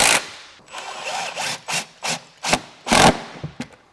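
A ratchet wrench tightens a factory bolt while a lift kit is fitted to a Kia Telluride, giving a series of short rasping clicking bursts, close and distinct, roughly eight strokes in irregular rhythm.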